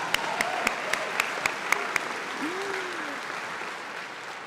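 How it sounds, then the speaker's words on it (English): A crowd at a School of Business hooding ceremony applauds MBA graduates with a steady wash of clapping. A few louder individual claps stand out near the start and a brief voice rises partway through. "a couple extra claps for the MBA students who are first"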